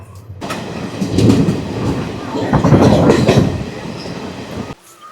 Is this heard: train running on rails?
yes